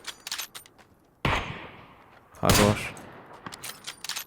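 A few sharp gunshot bursts in the video game PUBG, with two loud blasts standing out among quieter pops and a brief spoken word.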